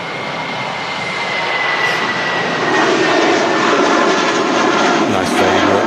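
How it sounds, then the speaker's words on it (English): A jet airliner rotates and takes off from the runway at Manchester Airport, a loud, steady engine roar with rising rumble that builds and holds throughout, with talk over it. "Nice vapor over the wings as well as the aircraft rotates off the runway."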